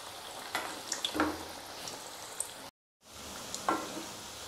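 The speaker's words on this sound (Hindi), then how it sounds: "गैस की फ्लेम कम ही रखेंगे और ऊपर से ऐसे तेल डालते हुए इसको फ्राई कर लेंगे" Malai kofta balls fry over a low flame in hot oil, a steady soft sizzle and crackle with occasional pops, close by, briefly cut to silence partway through.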